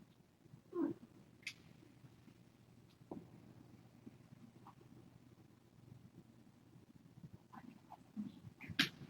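Kittens give a few faint, scattered meows and small cries against quiet low background noise, with no talking.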